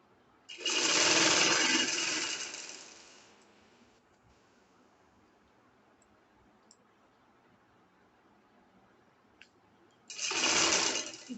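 A home sewing machine runs a pintuck seam three-quarters of an inch wide on a fancy shirt, a steady whirring burst of about three seconds, then quiet, then a second short run near the end.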